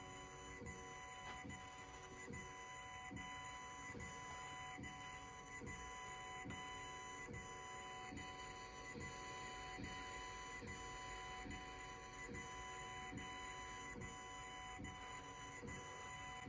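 Aufero Laser 2 (LU2-2) laser engraver running an engraving pass, a steady mechanical whir with regular rhythmic stepping pulses from the moving head, continuous and fairly quiet throughout with no talk.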